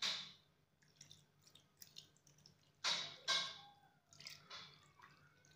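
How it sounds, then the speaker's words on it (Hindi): Cold water poured over freshly made paneer to rinse it, quiet irregular splashes and drips in a few separate bursts, close and soft. "इसमें मैं आप थोड़ा सा ठंडा पानी डालूंगी और इसको थोड़ा सा वॉश कर दूंगी"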